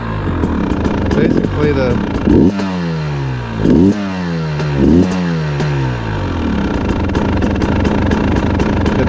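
A KTM XC-W 300 TPI two-stroke motorcycle engine revs up close, rising and falling in several sharp throttle blips over a steady idle, with someone talking over it.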